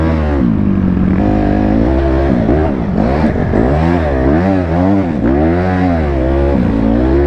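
A quad bike engine revs hard and steadily while off-roading through dirt, a loud close buzzing drone with rising and falling pitch sweeps as the throttle is worked, continuous throughout.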